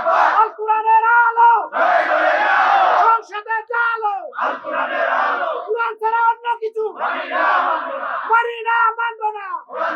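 A large crowd loudly chants the takbir, Allahu Akbar, in repeated call-and-response waves at a political religious gathering, the massed voices swelling and falling in a steady rhythm.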